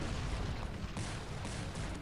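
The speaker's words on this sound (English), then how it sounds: "Having 32 cannons just raining down on this barrack" A dense, continuous barrage of booming explosions and gunfire rumbles without pause, like many cannons firing at once in a battle; 32 cannons bombarding a barrack in the strategy game Cossacks 3.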